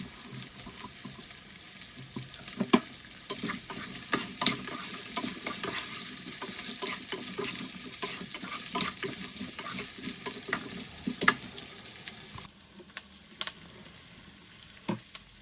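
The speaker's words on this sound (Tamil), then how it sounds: "அதோட சேர்த்து ரெண்டு பச்சை மிளகாயும் போட்டு ரெண்டு மூணு நிமிஷத்துக்கு வதக்குங்க அடுப்பை குறைச்சி வச்சு கொண்டு வதக்குங்க" Garlic and green chillies sauté in a pan over low heat, giving a steady close sizzle with frequent scraping stirs of a spoon, which thin out near the end.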